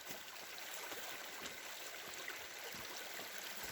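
Creek water flows steadily past a fallen tree, a continuous broadband rush and trickle at moderate, even level with no talking.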